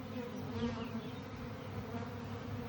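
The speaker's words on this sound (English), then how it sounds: "These bees aren't gonna go anywhere without their queen." A dense, continuous buzzing of a honeybee swarm gathered on a metal T-post fills the scene, steady and close with a slight wavering drone and no voices.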